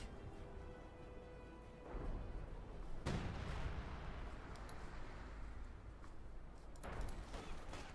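Artillery fire in the real-time strategy game Company of Heroes 2: several deep booming impacts with rumbling tails at a distance, a strong blast near the middle and another toward the end over a constant low battlefield rumble.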